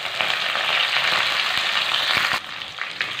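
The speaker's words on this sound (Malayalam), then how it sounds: "പിന്നെ നമ്മുടെ കറിവേപ്പിലയും കൂടി ചേർത്ത് കൊടുക്കാം." Curry leaves and garlic frying in a clay pot over a medium flame, a loud, close, steady sizzling crackle with a few stirring knocks that eases suddenly to a softer sizzle.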